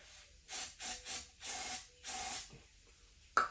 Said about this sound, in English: Spray a little ether.